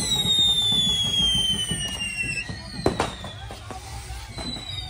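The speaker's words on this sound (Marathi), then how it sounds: "जल्लोष भाई फटाके बघा" Firecrackers and fireworks burst throughout a celebration, with a steady crackling din, whistling rockets and a sharp loud bang near the middle, some voices faintly in the crowd.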